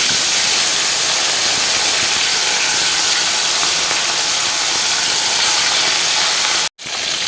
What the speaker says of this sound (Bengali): এবারে আমি এই গরম তেলের মধ্যে হলুদ লবণ মাখিয়ে রাখা ভাঙল মাছের পিসগুলো দিয়ে ভেজে তুলে নেব।